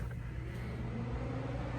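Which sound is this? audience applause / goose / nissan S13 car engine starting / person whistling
nissan S13 car engine starting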